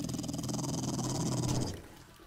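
A dog growls in the video game 7 Days To Die, a close, loud, rumbling snarl that holds steady and then cuts off near the end.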